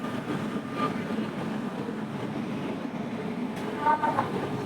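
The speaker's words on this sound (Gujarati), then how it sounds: "સો ગાઈસ આપણે ટ્રેન આવી ગઈ છે" A local passenger train pulls into a station on the return trip from Ayodhya to Ahmedabad, a low steady rumble with faint squeals and metallic clanks rising near the end, under light platform murmur.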